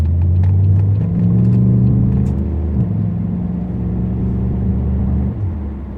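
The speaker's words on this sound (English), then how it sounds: "I have to get that exhaust leak fixed. You can probably hear it pretty well." Car exhaust leaking where the downpipe meets the rear pipe, heard from inside while driving: a steady loud low droning rumble with engine tones that shift as the car changes speed, with no talking.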